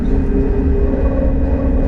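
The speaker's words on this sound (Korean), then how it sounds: "열차는 고속선 질주를 위해 대구도심 구간 방천터널에 진입합니다" KTX high-speed train running through the Bangcheon tunnel in the Daegu urban section, a loud, steady low rumble with a faint tonal whine, heard close from on board.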